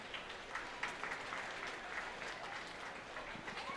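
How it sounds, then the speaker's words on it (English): Steady applause from a crowd at a county fair livestock show, clapping for the kids in the ring, sustained and fairly even throughout at moderate distance. "we'll go ahead and give them a round of applause for bringing these back out here"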